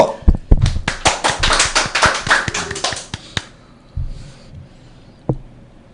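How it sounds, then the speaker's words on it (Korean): A few people clap at the opening of a Korean political issue talk show hosted by Hong Banjjak, loud close handclaps in an uneven burst of about three seconds, then sparse taps and quiet. "박수 좀 치세요."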